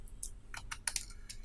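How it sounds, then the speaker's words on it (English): Computer keyboard keys click in a short burst of about six close, crisp taps at uneven intervals, quiet and alone in a still room. "click R on your keyboard"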